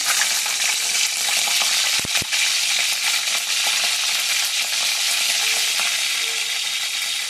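Green chillies dry-roasting in a pan with no oil, giving a steady dense crackle and hiss throughout, with a couple of brief sharp clicks near the start and no voices.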